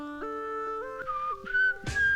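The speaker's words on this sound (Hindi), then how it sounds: "सीटी क्यों बजा रहे हो" A person whistles a short melodic tune alone, sustained tones stepping up and down in pitch, ending with a brief noisy burst.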